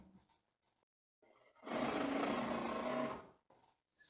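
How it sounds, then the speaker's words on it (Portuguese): A sewing machine runs a single steady burst of about a second and a half while stitching a seam on women's tailored trousers, close and loud, framed by quiet handling noises before and after. "Vamos dar início à costura, arremate."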